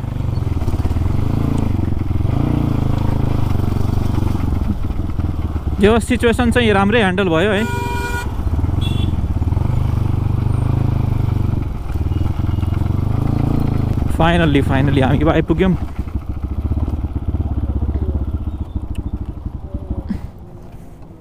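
A Crossfire motorcycle with its exhaust, ridden on a road in Nepal, gives a constant loud, close engine drone. Someone talks over it throughout, and two bursts of honking horns pass along the way.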